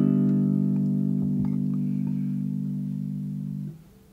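A baritone ukulele strummed once, its mellow chord ringing loud and close, with steady sustain for several seconds before it is damped near the end.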